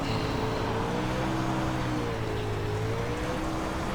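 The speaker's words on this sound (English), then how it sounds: "I just love how nice and aggressive that engine sounds." A dirt Super Late Model race car engine in iRacing drones steadily and loudly, its harmonic tone rising and falling slightly with throttle under a constant wash of dirt and road noise.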